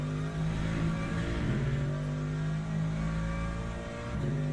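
AMG GT3 race car engine in the Le Mans Ultimate racing game at Monza, a steady, loud drone with sustained tonal hum and rising, falling revs throughout, no voices.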